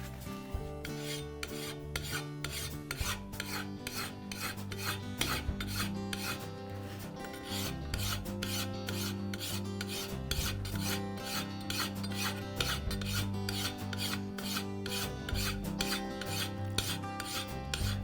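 A hand file sharpens a lawn mower blade in steady one-directional rasping strokes, close and fairly loud, repeating at a quick even rhythm with no talking.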